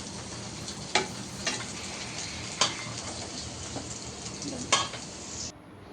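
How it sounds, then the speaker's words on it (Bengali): Steady oil sizzle of kebabs frying, with a few sharp clinks of a utensil stirring at intervals, close by and with no talking. "কয়েকটা কাবাব ভাজা হয়ে গেল, বাকিটাও ভেজে নিচ্ছি"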